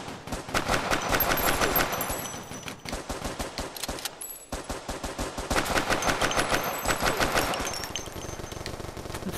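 Machine gun fire rattles through the VR shooter Crisis VRigade in dense, loud automatic bursts that run nearly continuously, with one brief pause in the middle.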